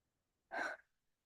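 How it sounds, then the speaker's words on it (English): A single quick, breathy intake of air, a deep breath drawn close to the microphone, lasting only a fraction of a second against near silence. "Take a deep breath."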